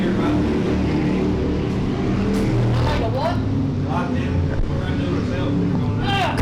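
Race cars at Willard Speedway during a Crown Vic feature roar down the back stretch, engines swelling and fading as they pass in a loud, continuous rumble under a commentator's running call.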